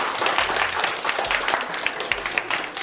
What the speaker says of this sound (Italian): Benissimo, applauso!